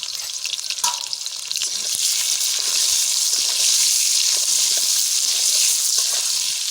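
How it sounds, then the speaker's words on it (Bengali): Potatoes with a little turmeric fry in hot oil, a loud continuous sizzle with occasional stirring scrapes, close up and without speech. "অল্প না হলুদ দিয়ে আলুটা ভাজে নিই।"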